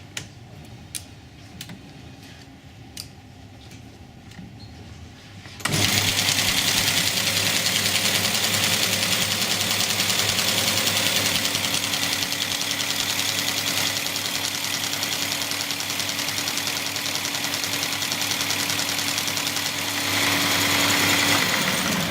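A purely mechanical machine driven by an electric motor starts up and runs loudly and steadily with a broad mechanical roar and rhythmic ticking, after a quieter stretch of faint clicks.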